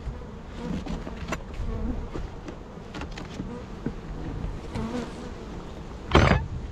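Honey bees hum steadily around a nuc hive in a mountain bee yard, a close, continuous droning buzz with scattered clicks and taps and a sharp knock near the end.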